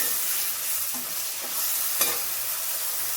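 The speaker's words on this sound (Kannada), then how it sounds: "ತರಕಾರಿನ ಹಾಕ್ಕೊಂಡ್ಮೇಲೆ ಒಂದು ಮೂರರಿಂದ ನಾಲ್ಕು ನಿಮಿಷ ಇದನ್ನು ಎಣ್ಣೆಯಲ್ಲಿ ಚೆನ್ನಾಗಿ ಫ್ರೈ ಮಾಡ್ಕೊಳ್ತೀನಿ" Chopped vegetables fry in hot oil in a pan for vermicelli upma, giving a steady, close sizzling hiss with a few soft stirring scrapes and no talking.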